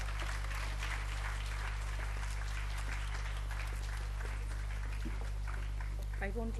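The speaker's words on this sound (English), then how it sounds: "Let's have a huge round of applause." Audience applause at a school annual day celebration, steady crowd clapping throughout under a loud constant electrical hum from the hall sound system, ending with a few muffled voice-like sounds.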